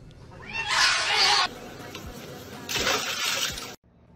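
A cat lets out two drawn-out meows or yowls in a row, the first longer and louder than the second, close by and with nobody talking over them.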